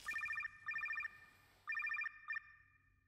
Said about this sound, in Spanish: Shoto, contesta al teléfono.